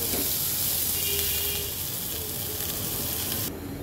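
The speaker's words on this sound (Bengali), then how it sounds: "পেঁয়াজটাকে আমি আগে সুন্দর করে ভেজে নেই," Onions sizzle as they fry in a pan, in preparation for a khoilsha fish curry with potatoes. A steady, close, hissing crackle continues throughout and changes sharply near the end.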